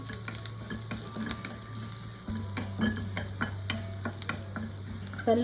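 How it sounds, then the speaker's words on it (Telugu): Raw vegetables fry in ghee with a close, lively sizzle and frequent spoon scrapes and clicks against the pan throughout, alone without talk. "అది నేను ఫ్రై చేసుకుంటున్నాను."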